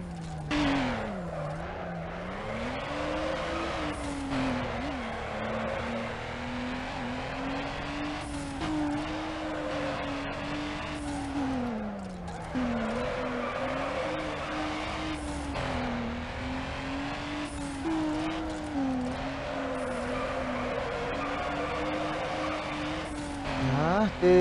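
Car in Need for Speed Underground sliding through a drift, a sustained engine drone with wavering pitch that rises and falls over and over, tire squeal threaded through, with a voice talking over it now and then.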